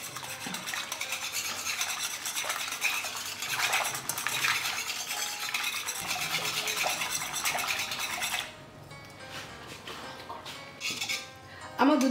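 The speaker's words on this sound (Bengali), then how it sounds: "ভালো করে নেড়ে নিতে হবে।" A spoon scrapes and swirls steadily through yogurt and milk in a pot, a close, continuous wet stirring with faint clinks against the metal sides, easing near the end.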